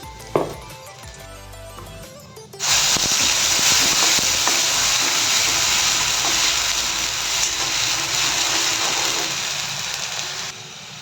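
Chili and spice paste dropped into hot oil in a pan sets off a loud, steady sizzle that starts abruptly after a brief clatter and carries on continuously up close, easing slightly near the end, with no talking.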